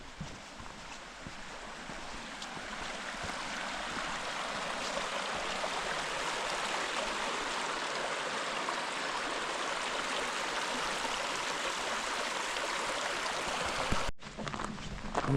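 Water flowing beside a trail spot in the Great Smoky Mountains National Park: a steady, broad rushing wash, moderately loud and unbroken, cut off abruptly near the end, with no talk.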